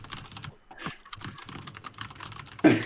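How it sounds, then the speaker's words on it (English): Soft, irregular clicking of keys on a computer keyboard, close by and fairly quiet, ending with a louder clack. "Here, I'll do the typing for you"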